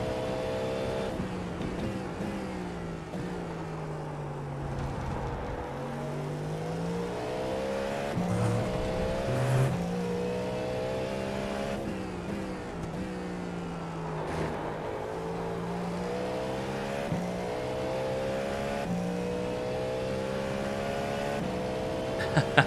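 A race car in a Daytona 24 racing game runs through repeated engine cycles, pitch climbing on throttle then dropping through downshifts under braking, one steady droning motor with a faint tire squeal near the end.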